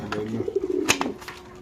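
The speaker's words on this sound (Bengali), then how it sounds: "এখানে আছে এক পিস কবুতর" A caged pigeon at a pigeon farm gives a soft, low rolling coo nearby, one short burst with a faint rustle, otherwise quiet.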